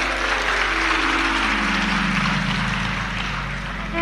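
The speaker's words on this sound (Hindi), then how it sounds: "ताली बजाने से कुछ नहीं होगा" An audience claps together in a dense, steady burst of applause that stays loud throughout and fades slightly toward the end, with no talk over it.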